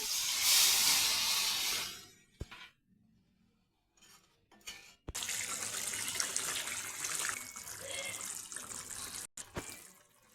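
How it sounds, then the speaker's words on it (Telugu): Water is poured into a pan of paneer masala curry gravy, making a gushing, splashing rush that comes in bursts with short gaps. The sound is close and moderately loud, and there is no talking. "ఇప్పుడు కొంచెం వాటర్ పోసుకుందాం"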